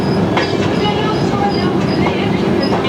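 Train rolling along the rails on the Vistadome coach service from Bangalore to Mangalore, a loud steady rumble with faint rhythmic clicks and a few higher squeals throughout.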